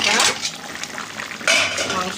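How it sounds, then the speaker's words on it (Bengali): A lid goes onto a pot of country chicken curry with potatoes cooking on a gas stove, giving two sharp metallic clatters about a second apart, close and fairly loud. "ঢাকাটা দিয়ে দিই, গ্যাসটা বাড়িয়ে দিলাম, ফুটে উঠুক"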